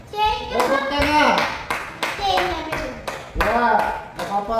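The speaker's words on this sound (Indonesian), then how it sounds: "Tepuk tangan." Classroom applause after a student group presents, many children clapping in a brisk rhythmic pattern, loud and close, mixed with children's voices calling out.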